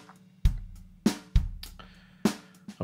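A basic drum groove from a Groove Agent software drum machine plays alone, with punchy kick and snare hits over a steady low pulse, a handful of strong beats in a simple, spare pattern.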